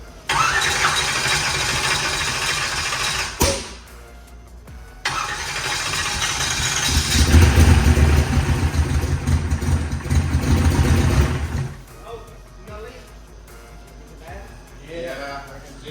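A race car engine cranks and fires, then revs hard and holds a loud, rising roar for several seconds to spool the turbo before dropping back; people talk nearby afterward.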